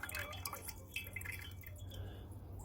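Rinse water poured slowly off silver into a stock pot, trickling and dripping in quick, faint splashes with a few light metallic clinks.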